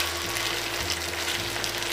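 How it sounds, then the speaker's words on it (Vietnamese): Pork belly pan-frying over medium heat with lemongrass and chili, giving a steady, dense sizzle that stays close and even throughout, with no voices. "Chiên cái này hay còn gọi là áp chảo đó các bạn."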